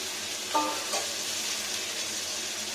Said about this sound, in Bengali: এবার এটাকে কন্টিনিউ নাড়া দেবো মশলাটার সাথে